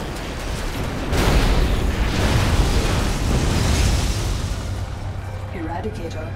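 A large structure called the Eradicator blows up in StarCraft 2: Heart of the Swarm, giving a loud, sustained rumbling blast that rolls on for several seconds before easing off into lower background game noise.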